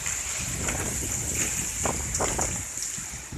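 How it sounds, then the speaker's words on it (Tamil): Steady, roaring wind with a broad hiss of heavy rain from Cyclone Vardah in 2016, constant and loud throughout, with occasional gusty swells. "மழை எப்படிலாம் ஆடுது பார்த்தீங்களா, காற்று மழையும் சேர்ந்து அடிக்குது"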